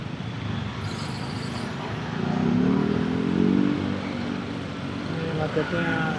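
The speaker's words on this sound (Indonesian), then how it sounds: "Ini macetnya sampai lampu merah Salemba ya guys." Jammed Jakarta traffic near the Salemba lights heard from a motorbike, a continuous rumble of cars, buses and motorcycles with engines swelling and passing, and talk faintly mixed in.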